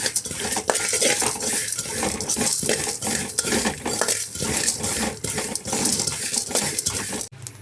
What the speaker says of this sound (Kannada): ಎಳ್ಳನ್ನು ಸೇರಿಸಿ ಇದನ್ನು ಚೆನ್ನಾಗಿ ಫ್ರೈ ಮಾಡ್ಕೊಳ್ಳೋಣ ನಾವು